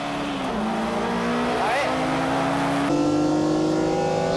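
Honda VTEC race cars, including an NSX and an S2000, howl around the Tsukuba circuit, engines revving loud and close as they brake and accelerate through a corner, with a commentator talking over the steady roar.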